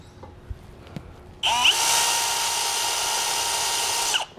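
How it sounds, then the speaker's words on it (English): A power drill whirs up suddenly and runs steadily for a few seconds, loud and close, after some faint clicks, drilling holes in a 2022 Forest River travel trailer with bits stepping up to 5/16 inch. "then we'll step up using different drill bits to make it all the way to a 5/16."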